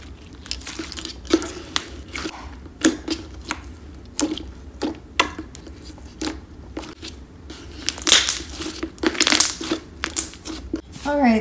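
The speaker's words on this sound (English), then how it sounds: "So far I'm loving this slime. It's so clicky" Clicky magnetic slime with beads is squeezed and squished up close, giving repeated sharp crackling pops and wet clicks in irregular bursts that grow busier toward the end.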